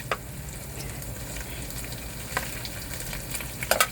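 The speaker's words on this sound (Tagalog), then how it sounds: "gigisa na natin yung isda na hinimay-himay" Flaked fish sautéing in a pan gives a soft, steady frying sizzle with a few faint clinks and scrapes near the end, fairly quiet and without voices.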